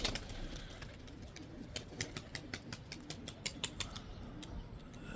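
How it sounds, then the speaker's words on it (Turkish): Rapid, crisp clicking flutters of tumbler pigeon wings during a tumbling flight, a string of sharp bursts over faint background hiss, moderately close. "yavaş yavaş kuşun kanat sesi de gelir. Takla sesi de gelir."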